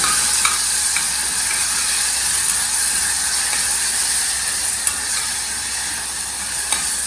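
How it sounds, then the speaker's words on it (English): Grated tomatoes cooking in a pan with cinnamon, cloves and curry leaves for a Maharashtrian mung aamti give a steady broadband sizzle throughout, broken by a few faint clicks of stirring. "Saute nicely."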